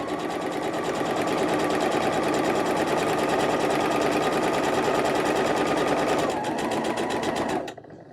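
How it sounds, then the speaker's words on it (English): A sewing machine stitches a quilt block seam in one continuous, loud, rapid whir close by, slowing and stopping just before the end. "And we're going to sew all the way down."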